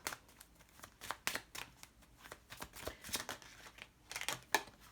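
A deck of tarot cards is shuffled by hand in rapid riffling bursts with short pauses, crisp papery flutters close up and fairly quiet, with no talking.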